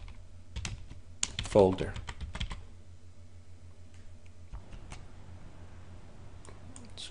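Typing on a computer keyboard while entering a checkpoint name, a burst of clustered key clicks early on followed by scattered lighter taps, with a brief spoken word mixed in.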